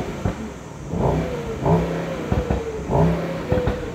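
A 2023 Mercedes-AMG SL 63 Roadster engine revs repeatedly in short, sharp bursts, rising and falling several times against a steady mechanical hum.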